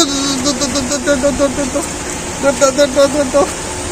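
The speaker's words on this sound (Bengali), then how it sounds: "তাড়াতাড়ি বৃষ্টি নেমে পড়ছে" Steady rain hiss runs throughout, with a series of short, repeated tonal beeps or horn-like notes sounding over it.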